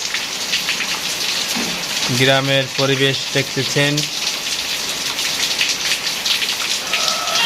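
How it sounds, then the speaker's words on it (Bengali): Heavy rain pours steadily on a village with trees, a dense continuous hiss throughout, while someone speaks briefly over it partway through. "দেখতে পারতেছেন প্রচণ্ড পরিমাণ বৃষ্টি হচ্ছে"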